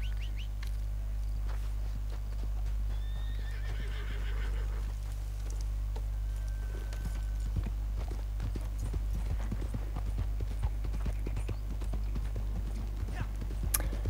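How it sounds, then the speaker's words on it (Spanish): A horse gallops up when called in the video game Red Dead Online, hoof clip-clops growing busier and closer over a low steady hum. "Llamo al caballo, como siempre"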